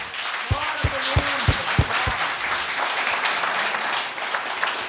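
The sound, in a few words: church congregation applauding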